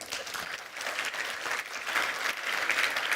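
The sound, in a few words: audience applause for conference panelists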